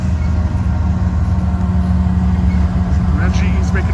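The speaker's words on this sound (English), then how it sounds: "And that GE's making a bunch of noise." A GE diesel locomotive hauling a CSX container train in Fostoria, Ohio, rumbles with a steady, loud low drone and engine throb that holds for the whole stretch, with faint higher rattles near the end.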